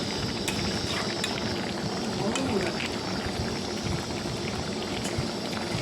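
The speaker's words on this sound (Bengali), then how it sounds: "পুরোপুরি ফুটলে তারপরে কিন্তু আমি নামিয়ে নেব" A prawn curry bubbles steadily in a pan on a gas stove, a continuous close simmering hiss and crackle lasting throughout at an even level.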